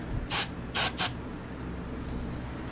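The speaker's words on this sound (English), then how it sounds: "hit it with a little carb spray." Carburetor cleaner sprays into the engine of a broken Troy-Bilt Bronco riding tractor with its air box removed, three short sharp hissing bursts, close, over a steady background hum.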